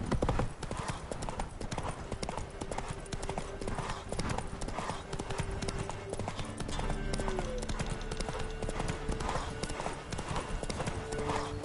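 A horse's hooves clip-clop in a steady, brisk rhythm while being ridden in the video game The Witcher 3, close and continuous with faint music or ambience beneath.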